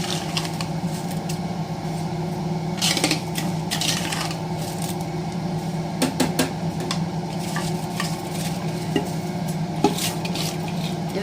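Rice is tipped into a pot of boiling water for tomato rice and stirred, with scattered clinks and scrapes of a utensil against the pot over a steady bubbling bed, close by and moderately loud.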